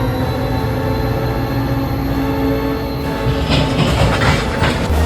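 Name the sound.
train braking with grain cars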